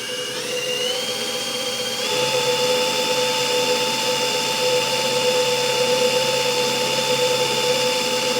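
A car alternator, not charging, spins up on a bench test driven by a trigger-operated power tool: a loud, steady whine with rising tones that climbs in pitch during the first two seconds, then holds level.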